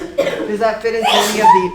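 A single sneeze rings out in a lecture room, short and close, mixed with a teacher's voice talking over and around it.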